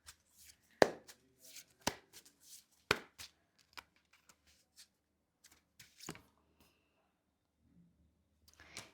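Tarot cards shuffled and handled for a reading, with close, scattered papery slaps, riffles and soft taps in irregular bursts separated by quiet gaps.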